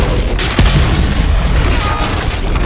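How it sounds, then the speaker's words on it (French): A film explosion sound effect as an Olympic-style torch ignites: a loud, deep boom bursts out early, over a dense, continuous roaring rumble that fills the whole stretch. "J'avais oublié que ça faisait une explosion à chaque fois."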